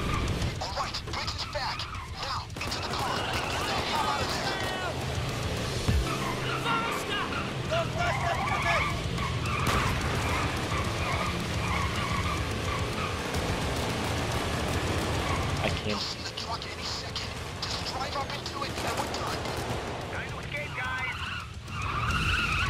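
Car tires skid and engine roars in the video game Payday 2 during a getaway drive, a loud continuous screech and rumble with game noise and players talking over it.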